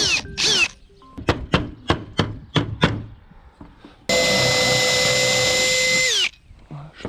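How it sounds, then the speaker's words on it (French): Power drill boring a pilot hole through roof slates during a house roof renovation, a series of sharp knocks and taps followed by a loud, steady two-second whine that winds down at the end. "moi je fais un pré-trou parce que le problème c'est que si je tape au marteau, ça va péter les ardoises"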